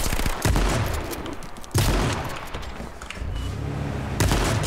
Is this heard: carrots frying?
no